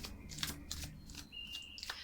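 Tarot cards being shuffled by hand in a rapid series of crisp, papery riffles and flicks, close and moderately loud, with no talking.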